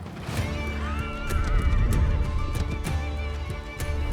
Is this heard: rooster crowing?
no